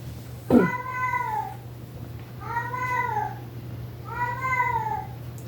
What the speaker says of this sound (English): I think my cat is yelling